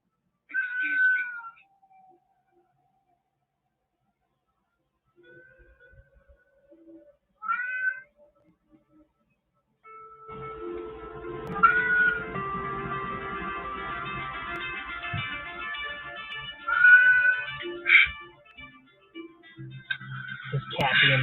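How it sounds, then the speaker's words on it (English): A cat meows several times, with short separate calls early on, then sounds mixed with background noise and other sounds later. "This cat being nice."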